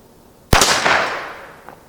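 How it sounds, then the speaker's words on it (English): A single pistol shot at a playing card outdoors on a windy day: one loud, sharp crack with a short decaying echo, then quiet. "That was first shot."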